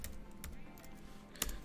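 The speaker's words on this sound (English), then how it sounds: "Press return on the keyboard" A computer keyboard on a Mac is typed on softly, with a few light key taps and one sharper keystroke near the end, close and quiet in a still room.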